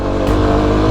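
A Kawasaki KLX250 dirt bike engine revs hard in second gear on a steep cliff trail, a loud, steady, close-up motor drone with a brief surge near the start and no talking over it.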